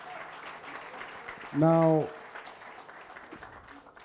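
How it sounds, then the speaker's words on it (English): Audience applause at a business technology workshop and expo, a diffuse patter of clapping running throughout at moderate level, with a voice briefly speaking over it midway. "Let's give Mr. Soli a big round of applause."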